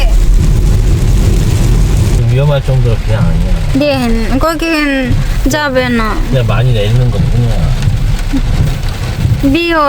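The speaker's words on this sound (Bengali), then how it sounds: "প্রচুর বৃষ্টি হতেছে" Heavy rain pours steadily on a rainy day in a Korean village, with water pooling on the road, a dense continuous hiss under loud conversation throughout.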